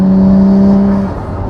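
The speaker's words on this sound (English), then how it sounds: "The blow-off sounds from the turbos are just immense." A Nissan R34 GT-R's engine holds a loud steady tone close by, then drops off abruptly as the turbos let go into a brief whooshing blow-off, over about a second and a half, with no talking.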